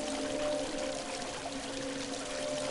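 Steady rush of water flowing from pipes in the video game Christmas Stories: The Nutcracker, a continuous even wash with faint tonal hum beneath, no talk.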